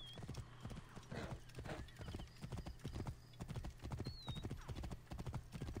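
Horse ride in Assassin's Creed Origins: dense, rhythmic hoofbeats of a galloping mount drum steadily and loudly up close, joined by a short whinny and someone speaking over them.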